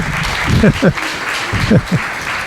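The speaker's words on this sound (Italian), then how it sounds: "Vieni Gary Quinn, facciamogli un applauso." An Italian conference audience applauds to welcome speaker Gary Quinn, with continuous clapping under a voice that speaks over it in short bursts.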